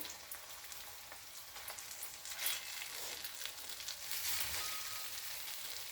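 Tamarind and dried red chillies frying in hot oil in a pan, a steady close crackling sizzle with scattered pops and slight swells in intensity, no voices.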